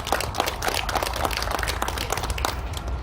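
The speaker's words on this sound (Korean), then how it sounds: "다시 한번 큰 박수 부탁드리겠습니다" Crowd applause at an outdoor founding rally and memorial service in Tapgol Park, Seoul, a brisk continuous patter of many clapping hands heard at moderate distance.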